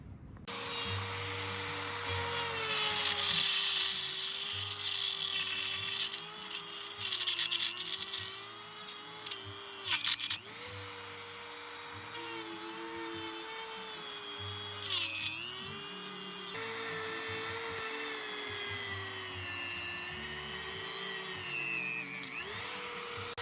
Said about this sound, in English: we'll get a Dremel and we'll cut out this part of the roof so this bolt will align